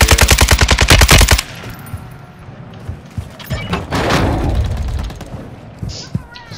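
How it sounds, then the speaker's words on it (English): Gunfire in a video game, a fast burst of loud close shots at the start, then scattered thumps and a swelling noisy rush, with a voice faintly present. "I got sniped from that building"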